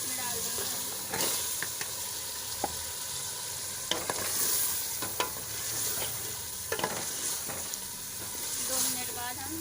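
Garlic and vegetables fry in a home-kitchen pan with a soft, continuous sizzle, broken by occasional scrapes and clicks of stirring, fairly quiet and close.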